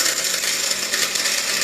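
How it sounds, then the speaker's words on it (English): A regular household blender, not a high-end model, whirring steadily as it crushes ice into a smoothie, a loud, continuous grinding roar that holds for the whole stretch and drops off slightly at the end. "so I'm gonna blend this up a little bit"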